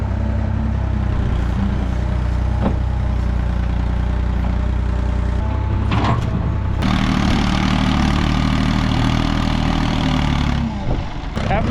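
A backhoe engine runs steadily at close range, a loud low rumble that shifts in load partway through, with a brief clank near the middle.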